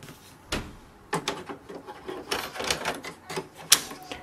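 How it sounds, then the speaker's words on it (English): An ink cartridge is locked in and the doors of a Canon MG3650s printer are closed, a series of close, distinct plastic clicks and knocks of varying loudness with soft handling noise between them. "Now close all the doors and your printer ink cartridge is installed"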